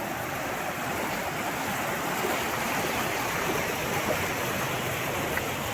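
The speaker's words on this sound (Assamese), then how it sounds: "এয়া আমাৰ ঠাই পানী এনেকৈ বাগৰি আছে ৰাস্তাইদি" Floodwater rushes across a village road during a flood, a steady broadband roar of flowing water with no pauses and no voices.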